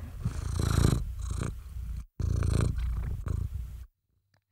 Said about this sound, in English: I hear her purring.